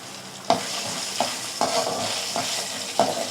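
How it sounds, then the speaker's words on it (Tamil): Dried turkey berries (sundakkai vathal) frying in a pan, a steady close sizzle with several sharp stirring scrapes at irregular intervals and no talk. "நம்ம அடுத்தாப்பில் இந்த சுண்டை வத்தலை வறுத்துடலாம்"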